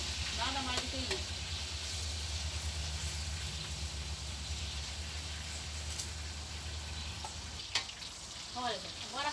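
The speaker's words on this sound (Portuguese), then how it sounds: "Olha, agora a carne tá bem fritinha. Já tá quase seca." Pork seasoned with salt and garlic frying in a pan, a soft, even sizzle and hiss heard quietly throughout, with brief voice-like sounds near the start and end.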